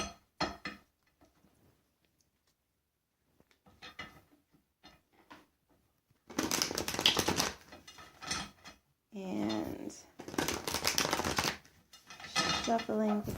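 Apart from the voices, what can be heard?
shuffling tarot cards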